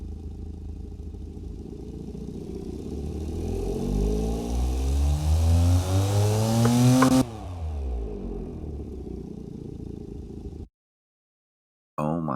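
Car engine in the Automation video game revving up steadily for several seconds, pitch climbing through gears to a peak, then cutting off and winding down before a short silence and a brief return of engine noise.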